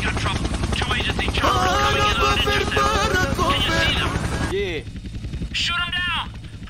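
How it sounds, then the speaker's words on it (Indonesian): A helicopter flying in the video game GTA San Andreas gives a steady rotor chop under loud, excited talk. "Oke, ada helikopter yang bawa paket nih kayaknya."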